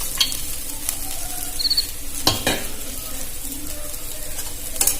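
Fried nuts being stirred into a pan of chira pulao (flattened rice pilaf), a soft steady sizzle with scraping spoon strokes against the pan and a few sharp clinks, close and alone.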